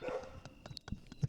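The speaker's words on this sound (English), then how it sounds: "Just know the dogs are barking." Dogs bark in short, scattered yips and woofs, faint and somewhat distant, several quick barks spread irregularly across a brief moment.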